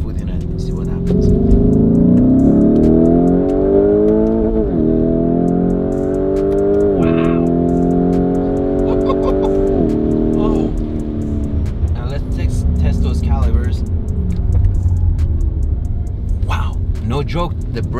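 Lamborghini Urus SUV accelerating hard with its engine note climbing steadily and dropping sharply at each of several upshifts, loud and close from inside the cabin, with a voice talking over parts of it.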